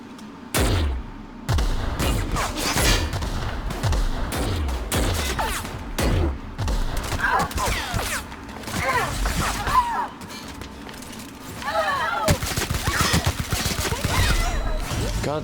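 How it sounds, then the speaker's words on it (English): A machine gun fires in The Outer Worlds, loud close bursts and heavy impacts that come in repeated clusters with brief gaps, mixed with crashes and explosions. "yeah, this is the machine gun, isn't it?"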